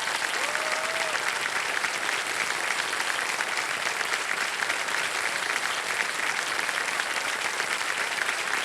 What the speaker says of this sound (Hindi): तालियां बजती रहें इनके लिए जोरदार